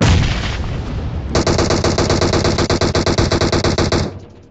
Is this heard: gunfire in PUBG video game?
yes